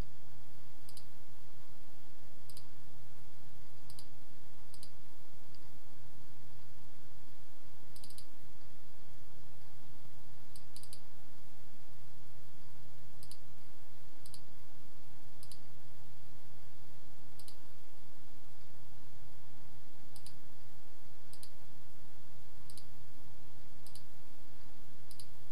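Computer mouse clicks in a Linux desktop setting, sharp isolated clicks at irregular intervals, sometimes in quick pairs, over a steady low electrical hum, with no talking.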